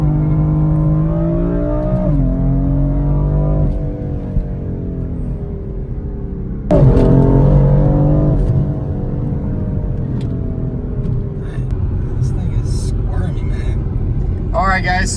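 A BMW M4 engine revs and rumbles as the car spins a donut, a loud sustained drone rising and falling in pitch with a sharp surge midway, while people talk over it.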